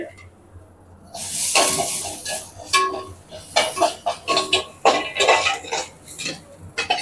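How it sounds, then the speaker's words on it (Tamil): Curry leaves dropped into hot oil seasoned with asafoetida for tempering a chutney, crackling in a burst of bright sizzle, followed by clinks and scrapes of a pan and utensils. "இதில் கருவேப்பிலையை போடுவோம்"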